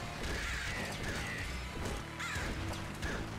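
Crows cawing in the video game Nuclear Throne, several harsh caws over a faint, noisy game background, with a few impacts mixed in.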